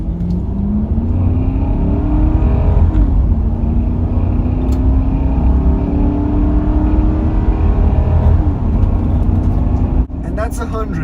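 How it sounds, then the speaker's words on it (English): A Toyota Land Cruiser Cygnus V8 engine revs up loudly from close by, rising and falling in pitch through a few strong sweeps, ending in a sharp shift as the revs change. "And I'll rev right now just so you guys can enjoy this V8 sound."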